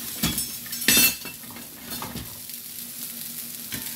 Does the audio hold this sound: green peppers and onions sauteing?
yes